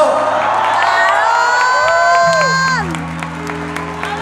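A live crowd at a concert by a Latin band cheers and shouts, voices whooping and clapping together loudly, while a held musical tone sounds through and shifts pitch midway, the roar easing slightly toward the end.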